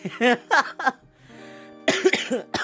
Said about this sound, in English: I might end up coughing time to time when I'm streaming